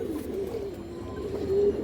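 A Bagha male pigeon coos at a pigeon farm, soft low throaty coos rising and falling in a steady murmur, close and fairly faint, with no talking.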